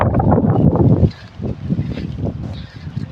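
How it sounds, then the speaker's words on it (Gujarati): Strong wind blows outdoors at a farm, buffeting the microphone with a loud, steady low roar that swells in gusts and then eases slightly. "પવન પણ જોરદાર છે હો."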